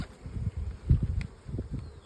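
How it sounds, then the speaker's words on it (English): Buckfast honey bees buzz softly as they are shaken off a hive frame, with dull thumps and handling rumbles, and a faint hum continuing between them. "I'm just going to shake these bees off"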